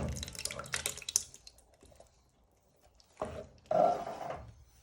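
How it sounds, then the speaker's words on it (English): Two tins of tomatoes poured into a pan for spicy Mexican meatballs: a wet, splashing plop at the start, then two further bursts of sloshing liquid later, moderately near and without talk. "So you add in 2 tins of tomatoes."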